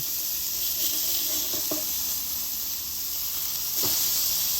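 Onion smash burgers sizzle steadily on a Blackstone Adventure Ready 20"x14" portable griddle, a constant close hiss with brief spatula scrapes as the patties are flipped, no talking.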